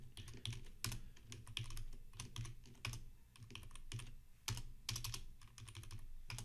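Fast, irregular clatter of typing on a computer keyboard while writing code, close and steady with brief pauses between bursts of keystrokes.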